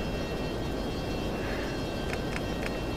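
An F-22 jet flying in the combat flight sim F22 Total Air War gives a steady, full-band engine roar that holds at an even level throughout, with a few faint ticks near the end.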